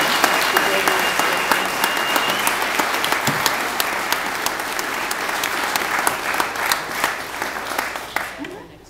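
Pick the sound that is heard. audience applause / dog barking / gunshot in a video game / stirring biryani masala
audience applause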